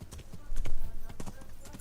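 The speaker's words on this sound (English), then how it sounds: "Could be the final time I ride my horse." Horse hooves clip-clopping during a ride in the medieval game Kingdom Come: Deliverance, a steady rhythmic stream of hoofbeats heard close under a voice talking over them.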